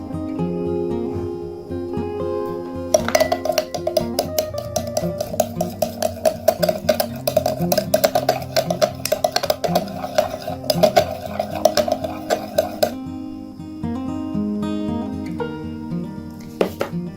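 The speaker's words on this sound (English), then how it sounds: "add 1 teaspoon of aloe vera gel and mix well all the ingredients" A spoon stirs flax seed gel and aloe vera in a bowl, with rapid, steady scraping and clinking against the bowl for about ten seconds, close up and clear, with soft background music before and after and no talking.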